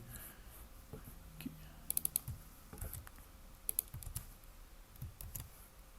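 Computer keyboard being typed on while writing Python code in Visual Studio 2022, a quiet irregular patter of soft key clicks with a few sharper taps, close but faint under low room noise.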